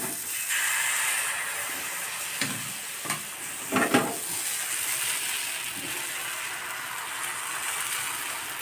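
Patishapta batter cooking in a pan gives a steady frying hiss throughout, with a few soft clinks and scrapes partway through, and no talking.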